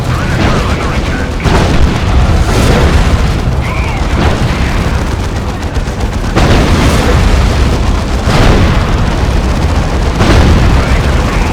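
Explosions and heavy booms from a burning vehicle in the real-time strategy game Dawn of War II: Chaos Rising, with repeated blasts over dense, continuous battle noise and occasional game voice callouts.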